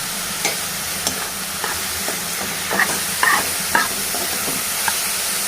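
Egg fry with green chillies sizzles in a pan while a spoon stirs and scrapes it, a constant frying hiss broken by repeated light clinks and scrapes.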